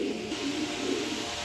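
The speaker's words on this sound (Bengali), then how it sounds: "দেখেন এখানে 3 পিস নর কবুতর দিলাম, 3 পিস নর কবুতর দিয়ে দিলাম।" Male pigeons cooing softly, a low burbling call repeating close by without voices.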